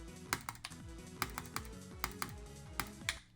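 Sharp mouse or key clicks from practicing the Bloodbath level in Geometry Dash, about a dozen crisp taps in an irregular rhythm over steady game music, close and fairly quiet.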